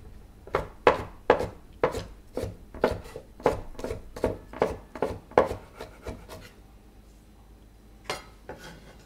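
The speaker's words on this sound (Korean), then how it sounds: "줄기 부분은 좀 두꺼우니까 좀 더 잘게 해서 쫑쫑 썰어주면 좋을 것 같아요." A knife finely chops thick vegetable stems on a board in a quick, even run of about a dozen crisp, close thuds, then a pause and one last cut.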